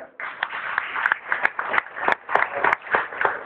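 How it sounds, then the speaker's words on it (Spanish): Applause for an award recipient at a university honorary doctorate ceremony, with individual hand claps clearly audible in a steady, moderately distant round. "Fuerte el aplauso para él."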